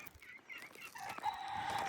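Turken chickens in a baby aviary, soft clucks and short calls, with a higher crowing-like note toward the end, fairly faint amid outdoor background.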